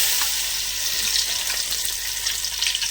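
Garlic and cumin seeds sizzle in hot oil for sambar, a steady bright crackling hiss that stays close and fairly loud throughout, with no talk over it.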